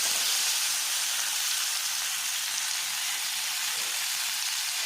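Marinated Anjal fish fries on a tawa over a medium flame, giving a steady, close, bright sizzle that hisses evenly throughout with no talking.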